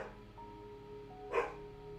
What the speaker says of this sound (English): oh, great, my dog is barking.